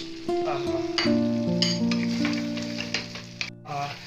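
Honey chilli cauliflower sizzles in a pan just after honey and a spoon of vinegar go in, a close steady crackle under clinking stirring strokes, with a tonal hum running beneath; no talking.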